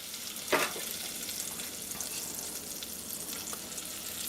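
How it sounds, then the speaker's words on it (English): Quarter cup of butter melting in a pan for creamed beef on toast, giving a steady soft sizzle with one brief louder crackle near the start, close and without talk. "put a 1/4 cup of butter in the pan and let that melt"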